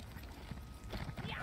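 Horse hooves clip-clop in the video game ESO: Morrowind, a quiet, steady trot over a low rumble of ambient game sound.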